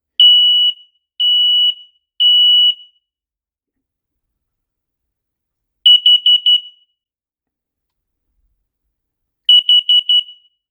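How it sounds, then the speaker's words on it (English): An X-Sense SC07 combination smoke and carbon monoxide detector sounds its test alarm: three loud, shrill, evenly spaced beeps, then two bursts of rapid pulsing beeps separated by silence, close and piercing. "if I push the test, it is calculating. Oh, the sound is very loud."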